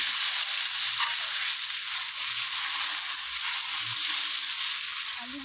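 Fried potatoes being stirred into a frying spice mixture for a village-style potato and egg curry; a soft, steady sizzling hiss continues throughout, with faint scraping from stirring and no talk.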